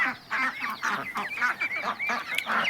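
A flock of ducks on a duck farm, rapid overlapping honking quacks in an almost continuous chorus, close and fairly loud, no people talking.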